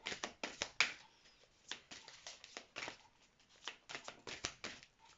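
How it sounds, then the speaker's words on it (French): Oracle cards are shuffled by hand in quick, crisp riffles and taps, coming in short uneven bursts with brief pauses, close and fairly quiet. "on va aller voir avec les cartes ce que nous réserve ce 21 décembre 2021"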